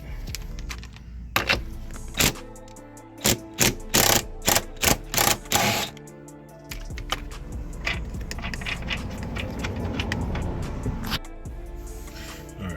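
A hand ratchet with a 15mm socket backs out bolts in short clicking bursts, close and fairly loud, followed by softer handling and shuffling noise and no talk.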